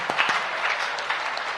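A church congregation claps in a brief burst of scattered, lively applause, with a few sharp individual claps standing out over the crowd.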